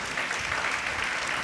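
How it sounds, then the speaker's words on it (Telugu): Congregation clapping during a sermon at a prophetic ministry meeting, an even, continuous crowd applause for a brief stretch. "నా మాట అర్థమైన వాళ్ళు చప్పట్లు కొట్టండి"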